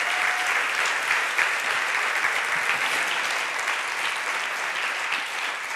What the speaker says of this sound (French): Prenez les applaudissements